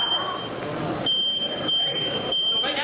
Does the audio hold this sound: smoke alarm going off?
yes